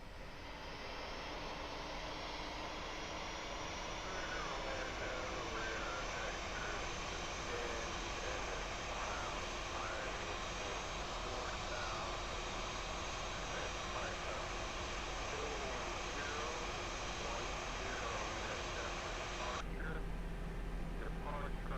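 Jet engines of a Flight Factor A320 Ultimate in X-Plane 12 hum as a steady, loud, continuous whine and rumble across the whole stretch, with a slight shift in tone near the end.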